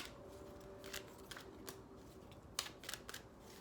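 Tarot cards are shuffled in soft, quick riffles and light taps, faint and close, with a few sharper clicks as the deck is squared.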